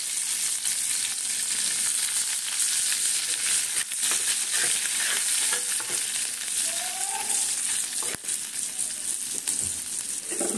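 Black cumin and garlic fry in hot oil for a prawn curry, a strong, even sizzle with crackling spits, occasional stirring scrapes and a sharp clack near the end, without speech.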